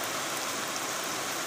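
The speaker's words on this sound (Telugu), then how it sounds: "జోరు వర్షం, సౌండ్ కూడా మీకు మంచిగా జోరుగా నస్తుంది" Heavy rain pours down in a village lane, a steady, dense, unbroken hiss of downpour heard close and alone, with no talking.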